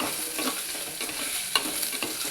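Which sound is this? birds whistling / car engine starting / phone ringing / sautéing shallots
sautéing shallots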